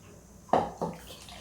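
Buttermilk is poured into a pot of besan kadhi with pakoras, giving two brief, close liquid splashes in quick succession.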